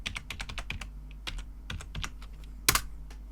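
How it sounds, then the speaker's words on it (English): A password typed on a computer keyboard, a quick run of crisp close keystrokes ending in one louder key press, with no talk. "So we just type in password."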